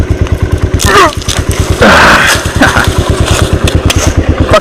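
Kawasaki Brute Force 300 ATV engine running while being ridden outdoors, a loud, close, steady pulsing putter with brief thumps and clatter over rough ground.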